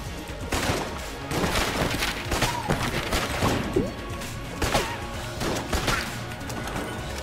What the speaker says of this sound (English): this Winchester rifle does a shit ton of damage